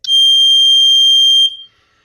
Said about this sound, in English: the buzzer played this noise